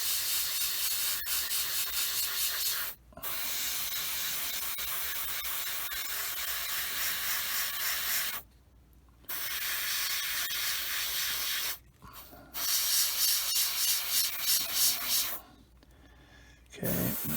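Paint sprays onto a Bandai 1/72 X-Wing Starfighter model kit in long, close, steady hissing bursts, separated by several short pauses.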